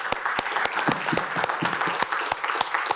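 An audience applauds panellists at the close of a discussion panel, steady dense clapping with sharp individual claps standing out, sustained for several seconds at even loudness, no voices over it.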